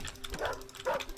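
A dog in the video game Thousand Threads barks and yips twice in quick succession, faint and close, with a whimpering quality.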